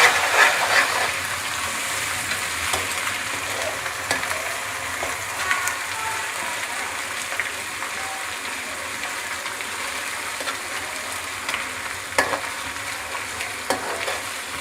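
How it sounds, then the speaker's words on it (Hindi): Onions fry with garlic and ginger paste in a pan for a pumpkin halwa dish, giving a steady, close sizzle with occasional scraping stirs throughout and no talking. "इसमें हम डालेंगे लहसुन और अदरक पेस्ट। 2-3 मिनट फ्राई कर लेंगे"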